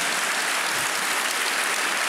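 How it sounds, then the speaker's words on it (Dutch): A studio audience applauds at a Dutch television show, a dense, steady wash of clapping that fills the short stretch without any talk. "Een groot applaus voor Job."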